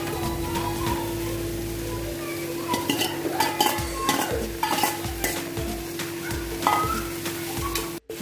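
Mint leaves frying in oil for mutton biryani, an even sizzle overlaid by busy stirring and clattering of a metal utensil against the pot, close and loud, ending with a sharp knock.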